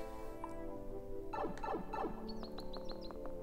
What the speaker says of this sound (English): I mean, I hear a bird chirping.